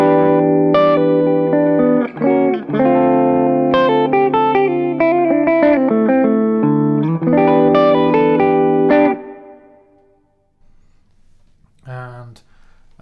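Electric guitar played through a slightly bigger room delay pedal, a busy run of loud chords and single notes with a roomy tail, ending in a pause and then a lone short note.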